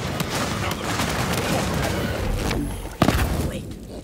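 Dense, continuous gunfire in Borderlands 3 with shots and booms packed together, a sharp loud burst near the end, mixed under game sounds and talk.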